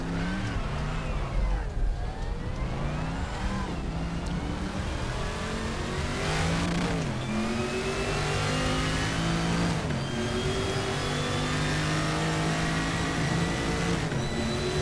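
Group 5 Corvette race car at Monza in RaceRoom, its engine revving hard through repeated rising gear pulls and upshifts, a loud continuous roar with pitch sweeping up and dropping between gears.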